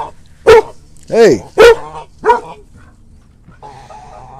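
Dogs bark four times in a loud, close burst of sharp barks, then go quiet while someone speaks briefly.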